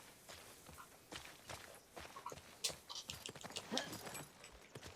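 Horse hooves in the video game The Last of Us Part II, an irregular run of soft thudding steps at moderate distance over faint background ambience, with no talk.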